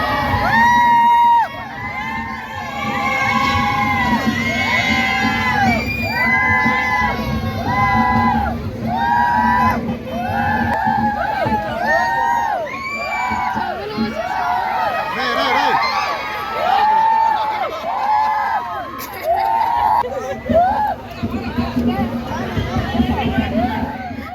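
A family with children shouts, whoops and cheers loudly and continuously aboard a train passing through tunnels on the Araku route, many overlapping excited voices close by over a low rumbling background.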